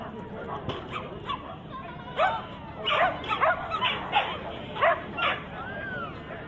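During an outdoor dog agility training exercise, a dog lets out a run of excited yips and barks in quick clusters, with people talking in the background.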